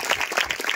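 A church congregation claps together in thanks during a youth gathering, a brief, dense burst of applause at a steady level with no talking over it.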